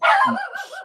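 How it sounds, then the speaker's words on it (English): A dog barks indoors, a single sharp close bark with a short yelping tail, heard alone without speech. "that's my dog going nuts"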